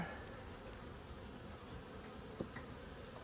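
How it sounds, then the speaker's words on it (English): A low, faint, steady buzz of honey bees and drones inside a hive hums throughout, like many bees close by, with a soft click partway through. "Lots of bees, lots of drone in there."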